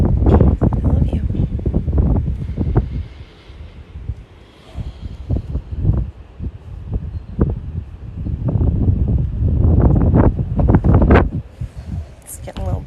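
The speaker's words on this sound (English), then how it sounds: "It's getting a little breezy." Wind blows hard across a farm, buffeting the microphone with a heavy low roar that rises and falls in gusts, with people talking faintly beneath it.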